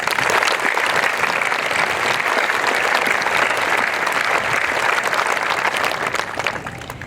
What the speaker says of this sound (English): Please, let's give this group a round of applause.